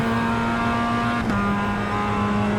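A race car engine in the iRacing sim holds a loud, steady buzzing drone, then shifts pitch abruptly as it downshifts midway and carries on at a new tone.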